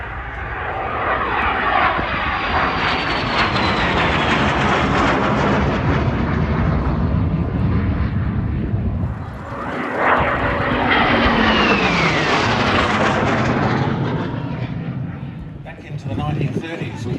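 A de Havilland Venom jet fighter, flown at a classic fighters airshow at Omaka, roars past with a loud sweeping jet rumble that swells, dips and rises again as it passes overhead, with a voice commentating beneath.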